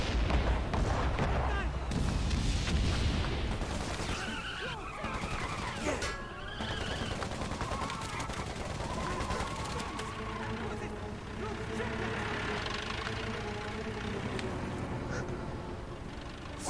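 Explosions and gunfire from the World War I video game Valiant Hearts, with booming blasts and rattling shots layered over a continuous battle din and game music.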